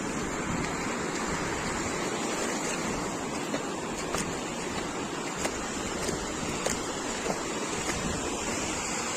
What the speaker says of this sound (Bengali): ওই দেখো কি বড় একটা ঢেউ আসছে একটা